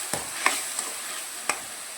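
Onion, ginger and garlic paste is stirred into mutton frying with whole spices. A steady sizzle runs under several distinct spoon scrapes and clinks against the pot.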